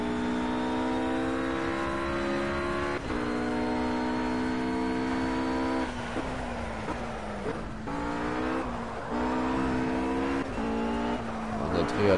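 A race car in the video game Project Cars holds full throttle, its engine droning loud and steady with upshifts that drop the pitch before it climbs again, and a brief tyre squeal.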